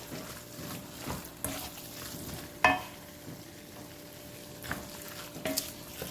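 Seasoned vegetables are stirred in a gumbo pot with a soft, steady sizzle, broken by scraping strokes and a sharp clink of a utensil against the pot.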